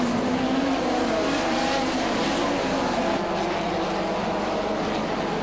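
Two Vauxhall race cars running nose to tail across the finish line at a short-track racing world final, their engines a loud, sustained roar with a steady drone throughout.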